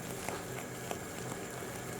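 Sugar syrup for Persian sohan boils at about 230 degrees Fahrenheit, giving a soft, steady bubbling and popping hiss that runs evenly and fairly quietly with no voices.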